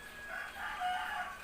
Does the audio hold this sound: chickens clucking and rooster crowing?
yes